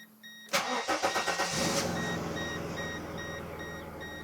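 An abandoned Mercedes W210 engine cranks with a quick run of rhythmic starter pulses, then catches and settles into a steady idle, close and clear with no talking.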